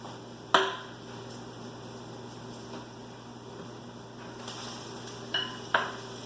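Zucchini fritter patties of about half an inch are laid into hot frying oil, a soft steady sizzle with a few sharp close clicks and taps from placing them in the pan.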